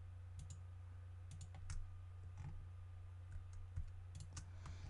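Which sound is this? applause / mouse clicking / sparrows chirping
mouse clicking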